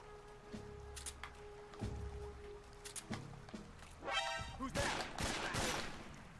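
Gunfire in Metal Gear Solid 3 Snake Eater: several sharp shots spaced about a second apart, then a rapid rattling burst and a cluster of louder blasts, moderately close and fairly quiet overall, with no speech.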